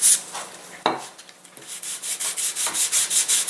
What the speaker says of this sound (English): you do want to sand it down